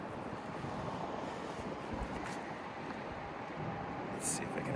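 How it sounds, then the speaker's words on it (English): Wind on a very windy outdoor day, a steady broadband rush buffeting the microphone throughout, with a few stronger gusts. "It's a very windy day."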